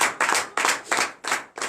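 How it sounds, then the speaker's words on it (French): A congregation at a morning prayer claps in a steady unison rhythm: five loud, close bursts of hand clapping, each lasting a fraction of a second and separated by short gaps, with no talking. "Donnez l'acclamation à Jésus."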